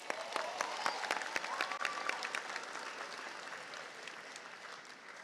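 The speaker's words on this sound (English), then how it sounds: "Can we give another big round of applause for everybody?" Enthusiastic applause from a large crowd at the Cleveland School of Architecture & Design 2024 commencement, dense steady clapping with a few sharper claps standing out, gradually easing off toward the end.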